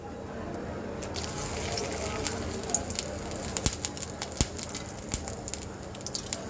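Two bay leaves hit hot oil in a wok and give a steady, fairly quiet hiss. Scattered sharp crackles and pops rise over it as the frying goes on.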